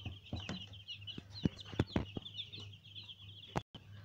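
Silver Wyandotte chickens and chicks kept indoors in a room: soft clucks and scattered peeps over a steady low hum, fairly faint and close, with a few sharper knocks and a brief dropout near the end.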